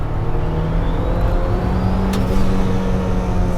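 A 400 hp turbocharged B18C Honda Civic Si EM1 pulls in third gear at light throttle. The engine drone is loud, close and steady, rising slightly, with a faint turbo whistle over it.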